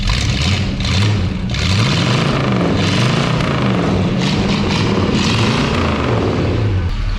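A 1965 Ford Ranchero 4x4, long abandoned, revs hard and loud at close range, its engine note climbing and falling in repeated swells over a constant rumble, with no talking.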